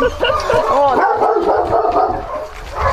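A dog barks and yips in short overlapping bursts close by, loud and excited, with a voice speaking briefly among the yelps in a home setting.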